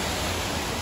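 Steady rushing roar of a cold mountain waterfall near Rishikesh, a dense, loud, unbroken wash of water noise close by, with no voices.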